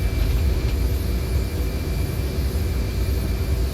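Embraer 170/195 jet engines spool toward takeoff thrust, a continuous broad roar with a steady low rumble and faint high whine, heard from inside the aircraft at an even, unbroken level.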